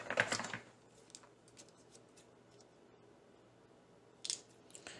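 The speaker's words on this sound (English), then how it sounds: "And then cut your tip." Scissors snip the tip off a plastic icing piping bag, one sharp close cut at the start and another short snip near the end, with quiet handling between.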